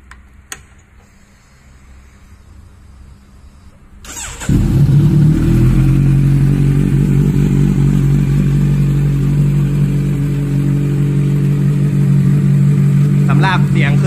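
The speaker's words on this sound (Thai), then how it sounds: "สำหรับเสียงเครื่อง Z900 คันนี้เสียงเครื่องปกตินะครับ" A 2018 Kawasaki Z900 ABS, fully modified, starts after a few quiet seconds of faint talk, then settles into a loud, steady idle with a deep rumble that continues to the end.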